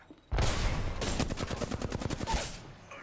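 A video game shooter erupts in loud, rapid automatic gunfire, a dense burst followed by a clear run of evenly spaced shots that stops abruptly after about two seconds.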